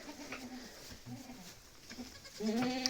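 A young goat bleats nearby at a farm, a short wavering call rising near the end over a soft background of outdoor noise.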